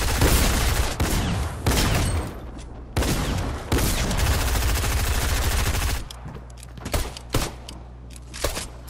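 Pistol gunfire in the Fortnite video game: loud, close bursts of repeated shots, some sustained and others single sharp cracks, spread irregularly with short pauses between them.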